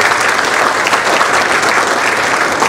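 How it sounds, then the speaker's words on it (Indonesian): Audience at a campus talk show clapping together, dense loud applause sustained steadily throughout, close and even with no pauses. "Mantap, tepuk tangan dulu dong teman-teman."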